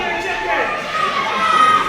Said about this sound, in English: The crowd calling Butler a chicken.